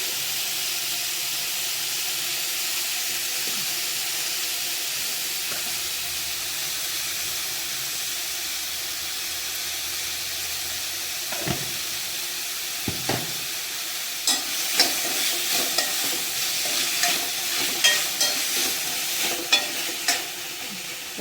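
Chopped tomatoes for a potato kurma sauté in a pan with a steady soft sizzle, while a spoon scrapes and stirs in short clicks and knocks that grow busier toward the end; no talking.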